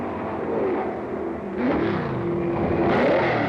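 Can-Am race cars at the 1968 Las Vegas Grand Prix, engines roaring and revving with rising and falling pitch as cars pass, loud and steady.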